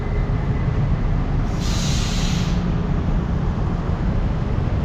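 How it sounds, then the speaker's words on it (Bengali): A train rumbles past on an elevated track overhead in a Thai city, a loud continuous low roar with a brief high metallic screech partway through, no talk. "উপর দিয়ে ট্রেন চলছে"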